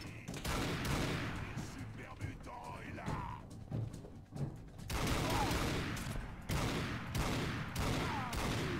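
Rapid bursts of gunfire from the player's weapon in Fallout 4's Far Harbor, loud and dense with short gaps between volleys, mixed with game sounds and some speech.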